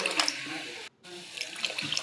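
Tamarind water pours into a pot of horse gram rasam (huruli kattina saru), a close, hissing splash that breaks off for a moment and then resumes.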